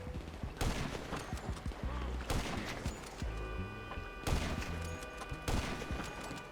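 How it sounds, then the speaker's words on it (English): Gunfire in GTA V, with sniper rifle shots among repeated loud cracks and bursts heard close over game background sound, spaced irregularly across the moment. "Just use a sniper rifle"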